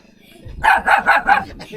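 A dog barks close by at a rural house where the owner is building a chicken coop: four sharp, evenly spaced barks in quick succession, loud and near.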